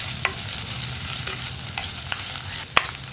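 A spoon scrapes and knocks in a pan of frying green chilies and curry leaves, a steady sizzle with four or five sharp clinks spaced irregularly, the last one loudest.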